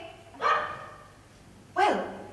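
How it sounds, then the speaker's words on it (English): Two separate barks from a dog in a stage play, the second sharper and rising, with quiet room ambience between them and no talking. "Don't bark when someone's talking."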